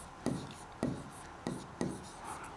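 Pen writing an answer by hand on paper during a class 9 maths lesson, four short distinct scratchy strokes spaced about half a second apart, close and quiet.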